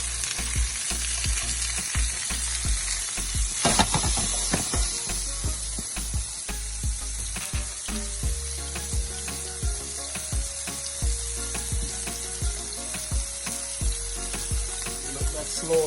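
Jamaican salt mackerel rundown with chili flakes bubbling and sizzling in a pot, a steady close hiss that runs throughout under rhythmic background music.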